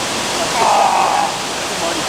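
A waterfall at a swimming hole roars close by as a loud, steady broadband rush of falling water that fills the whole moment, with a faint voice underneath.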